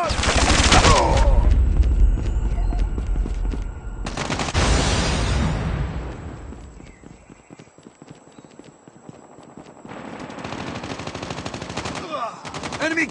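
Automatic gunfire in Call of Duty Mobile, loud rapid bursts at the start, again around the middle and near the end, with quieter stretches of game sound between and a voice heard briefly.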